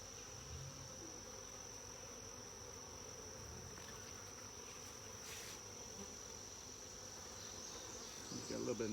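Honeybees buzz steadily around hive frames during a backyard hive inspection, a constant close insect drone running through the whole stretch with a slight swell near the end.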